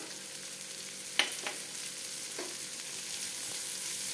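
Chopped green chillies sizzle softly in simmering spice masala while a spatula stirs them, a faint steady fry with two or three brief scraping strokes near the start, close but quiet.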